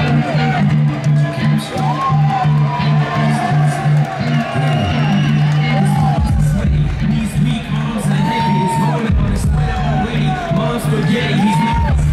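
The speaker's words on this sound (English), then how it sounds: "the whole crowd goes so loud" A loud arena crowd cheers, whoops and shouts as boxer Carl Froch makes his entrance, a continuous roar with music and a voice talking over it.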